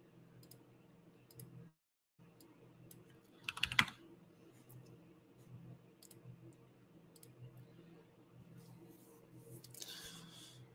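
Quiet, sparse computer mouse or keyboard clicks while paging through records, with one louder burst of clicks midway and faint room noise, no speech.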